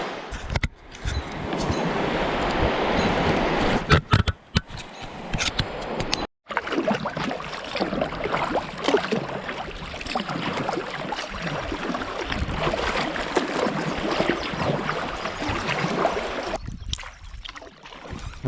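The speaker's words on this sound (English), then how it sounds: "that's some pretty swift current right there" Swift current of the Root River rushing past a kayak, a loud, steady broadband wash of moving water that runs almost unbroken for the whole stretch, with one brief dropout midway and a thinning near the end.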